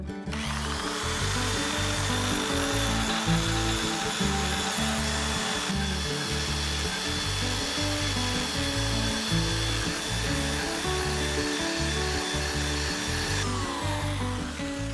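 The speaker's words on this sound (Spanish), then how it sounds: "Las vamos a lijar para darle un color diferente." A power tool sands metal strips steadily with a loud, continuous buzzing whine and a rhythmic pulsing throughout.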